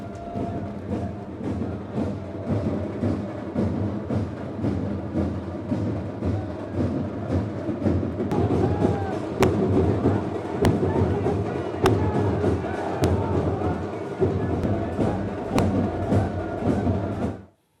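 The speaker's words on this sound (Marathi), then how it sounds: "यावेळी भाजप समर्थकांनी जोरदार जल्लोष केला" BJP supporters celebrating loudly after a mayoral vote at the Amravati municipal corporation, a dense, sustained roar of cheering with rhythmic clapping or drumming and occasional sharp bangs, like firecrackers, partway through.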